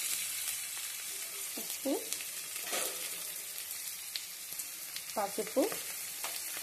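Onions, green chilies and curry leaves sizzle softly in a pan as they are stirred, with a faint steady fry and occasional utensil scrapes under a few brief spoken words.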